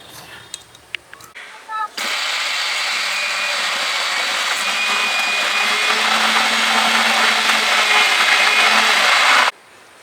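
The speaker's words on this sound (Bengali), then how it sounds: "এখন সুন্দর করে ব্লেন্ড করে নেব" A kitchen blender whirring through homemade mayonnaise ingredients, a loud, steady motor roar that starts abruptly after a few clicks and handling knocks, runs for several seconds and then cuts off.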